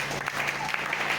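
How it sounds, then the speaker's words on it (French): A church congregation claps and cheers for the Lord during a French-language worship service, a dense, steady wash of applause. "Acclamez pour le Seigneur"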